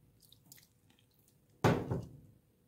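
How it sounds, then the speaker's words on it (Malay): Water for roti canai dough is poured into flour in one brief splashing pour after a near-silent pause, close and alone with no voices. "Kemudian masukkan air sedikit-sedikit."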